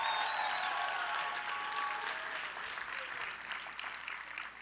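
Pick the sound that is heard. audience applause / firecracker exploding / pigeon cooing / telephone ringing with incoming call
audience applause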